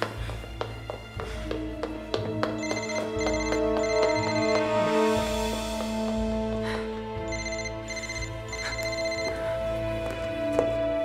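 A telephone rings in a Russian film scene, a steady electronic ringtone repeating in regular bursts over a low hum, close and clear with no one speaking.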